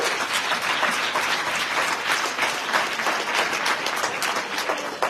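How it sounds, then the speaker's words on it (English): A room of over 150 people gives a sustained round of applause, dense and even clapping that holds steady throughout. "huge round of applause"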